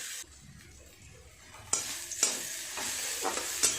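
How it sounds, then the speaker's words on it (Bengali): Onion frying in hot oil in a kadai over a gas flame, quiet at first, then a loud sizzle jumps in with repeated scraping stirs punctuating the continuous hiss. "পেঁয়াজটা হালকা করে ভেজে নেব আগে।"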